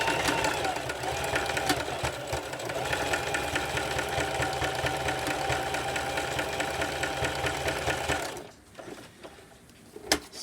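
A sewing machine runs steadily on a zigzag satin stitch along purse straps, a loud continuous mechanical whir with rapid needle chatter that stops near the end, leaving quiet handling sounds.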